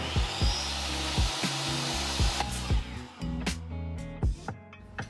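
A chop saw cuts wood door molding: a constant loud motor whine with repeated sharp knocks and thuds as the blade bites, running through the whole stretch with no talking.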